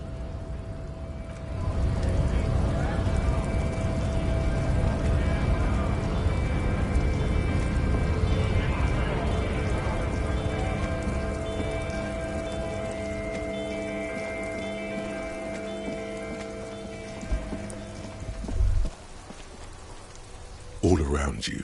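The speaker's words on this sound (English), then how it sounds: "All around you, rain falls on the great city of Revachol. Rain drips from the eaves and floods the gutters" Rain pours over the city of Revachol in the video game Disco Elysium, a steady wash of falling water with dripping eaves and flooding gutters, layered with low rumbling ambience and tonal music hum, thinning toward the end.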